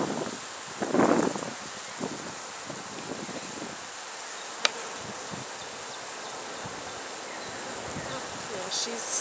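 Honey bees buzz steadily around a thriving hive colony, with a dense, continuous hum close to the microphone and light rustling and a few brief louder bursts mixed in.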